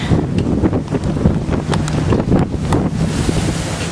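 Strong outdoor wind buffets the microphone on a very windy day among palm trees, making a loud, continuous rumbling roar with gusty surges throughout and no voices.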